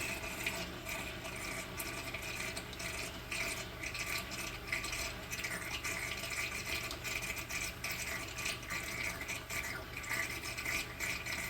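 Water drains steadily through an aquarium siphon overflow into a reef tank sump, a continuous close gurgling rush with a faint rattling texture, unbroken throughout.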